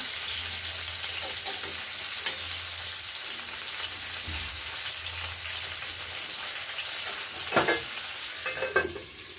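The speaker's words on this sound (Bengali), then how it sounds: "এবার পটলগুলোকে নেড়ে চেড়ে কিছুটা লাল করে নিই। তারপরে আবার দেখাচ্ছি, লাল করে নিই ভেজে।" Pieces of pointed gourd (potol) fry in oil in a pan, a steady close sizzle with occasional scraping stirs and a few sharper clinks near the end, no talking.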